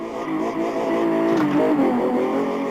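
A BMW E30 engine in the Live for Speed racing sim revs steadily and loud while drifting, its pitch rising and wavering in a sustained, close-up mechanical drone.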